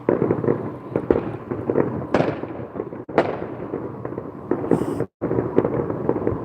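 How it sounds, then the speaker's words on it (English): Dense illegal fireworks crackle and boom continuously on the Fourth of July in Las Vegas, with sharp bangs standing out from a steady rumble of bursts, loud and fairly close. "What you're seeing here are not legal fireworks, they're all illegal fireworks."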